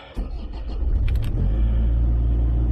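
An engine with an auto idle setting cranks briefly and catches, then settles into a loud, close, steady low rumble, with a light metallic rattle as it starts.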